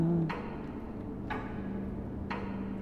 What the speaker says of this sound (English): You hear that clock?